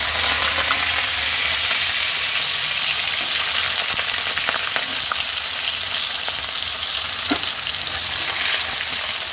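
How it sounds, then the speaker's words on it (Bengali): Carrots fry in a pan with a loud, continuous sizzle and crackle, plus occasional light scrapes and taps of stirring, close up and steady throughout with no talking. "এবার আমি গাজরগুলো ভাজবো।"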